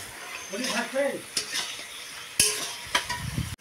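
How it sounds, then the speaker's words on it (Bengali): Brinjal slices fry in a pan in a home kitchen, a soft sizzle broken by sharp scrapes and taps of a spatula, close by, with a brief faint voice early on. "আর আমি ভাজতেছি বেগুন"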